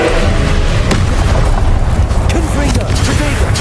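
An Incendio fire spell cast during combat in Hogwarts Legacy bursts out in a loud, dense rush of booming blasts and crackling impacts, with game voices mixed into the roar.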